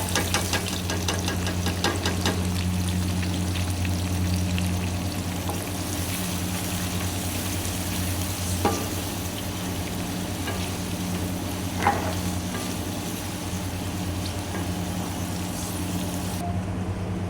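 Cumin seeds sizzle in hot ghee for loki chicken, a steady frying hiss with occasional stirring clinks and faint pops, continuous and close.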